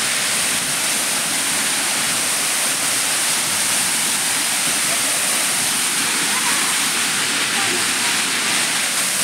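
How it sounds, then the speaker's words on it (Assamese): Kakochang waterfall pouring steadily, a dense continuous roar of falling water filling the whole clip at close range with no break. "আমি ফাইনালি পাই গ'লোঁ কাকচাং ৱাটাৰফল"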